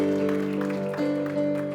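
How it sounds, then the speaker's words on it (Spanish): Church congregation clapping together, a dense, steady wash of applause heard close, mixed with sustained organ or keyboard chords. "Denle ese aplauso fuerte a Cristo"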